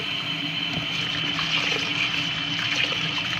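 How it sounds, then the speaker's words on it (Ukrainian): Millet being rinsed under running water, a continuous splashing stream of tap water with a busy, bubbling texture, close and fairly loud with no talking. "Пшоно я промию в воді."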